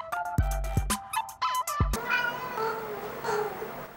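A hungry domestic cat meows loudly and close by, giving several drawn-out, rising calls that come in separate bursts over a few seconds.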